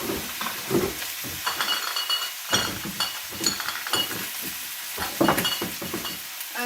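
Garden weeds cooking in a pan with salt, pepper and cinnamon, sizzling while being stirred: rhythmic scraping strokes and clinks over a steady hiss, close and clear.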